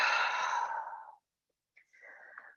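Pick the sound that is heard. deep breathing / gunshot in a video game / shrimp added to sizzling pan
deep breathing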